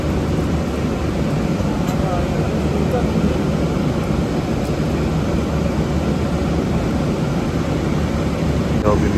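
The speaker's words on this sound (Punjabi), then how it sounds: "ਉਹ ਵੀ ਮਿੱਤਰੋ ਜਹਾਜ਼ ਚੱਲ ਪਿਆ" An airplane starting to move on the ground at an airport, a steady loud broadband engine roar and rumble filling the cabin throughout, with faint voices mixed underneath.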